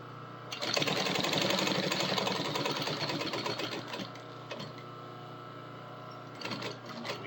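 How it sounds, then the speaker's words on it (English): A sewing machine stitches rain chaps in a sustained, rapid mechanical whir of needle strokes that starts abruptly, runs steadily for several seconds, then slows and stops with a few short bursts at the end. "back stitch that end, 3 stitches across, 3 stitches out."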